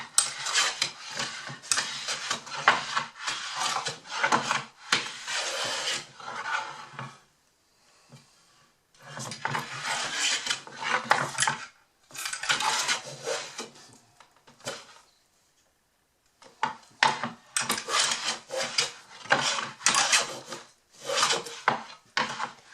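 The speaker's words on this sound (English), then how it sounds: "a little hand planing to level it up a bit" A hand plane shaves across a wooden vegetable bin top, a series of rasping strokes in bursts separated by short pauses, close and fairly loud.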